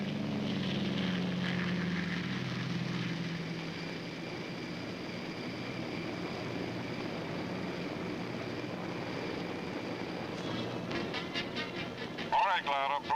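Aircraft engines drone steadily at night while towing CG-4A gliders during the D-Day invasion, a continuous propeller rumble that fills the scene and fades slightly, with a voice speaking briefly near the end.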